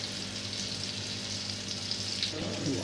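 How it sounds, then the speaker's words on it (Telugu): Butter melts in a hot kadai while a paneer curry is being started, with a steady, dense sizzle and crackle that runs evenly throughout at moderate level, alone without talk. "ముందుగా ఒక బౌల్ని కళాయిని పెట్టుకొని దాంట్లో బటర్ వేసేసుకోవాలి"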